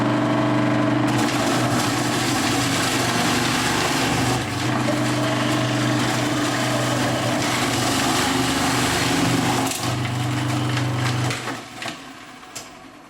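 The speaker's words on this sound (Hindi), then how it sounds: "मोटा घिसने के लिए मोटा घिसने वाली प्लेट को लगाइए और पूसर से दबाते जाइए" Paneer being grated on the thick grater plate of a Baby Prince gravy and vegetable cutting machine, pressed down with the pusher: a steady loud motor-like whir with grinding texture running continuously, then tapering off near the end.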